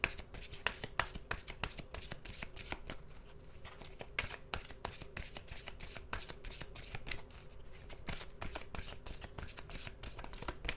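Tarot cards riffled and drawn by hand, a run of quick crisp flutters and soft slaps repeating close up for about ten seconds, with no talking.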